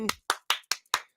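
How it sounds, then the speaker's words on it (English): A handful of people clapping, five sharp, evenly spaced claps in quick succession, close and crisp with silence between them. "I'm giving you a round of applause."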